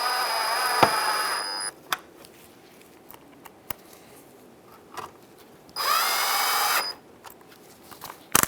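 A power tool whirs in short bursts, two main runs with brief clicks and taps between, while screws are driven into the front grille of a 2007-2015 Mazda CX-9, heard close with no talking.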